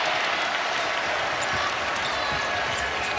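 A dense basketball crowd roar fills the arena at an Iowa State vs Kansas game, steady and loud, swelling slightly as the ball bounces faintly underneath.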